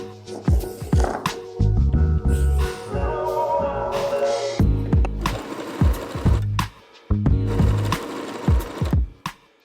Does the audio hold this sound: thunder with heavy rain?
no